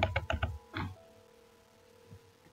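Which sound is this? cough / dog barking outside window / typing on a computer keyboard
typing on a computer keyboard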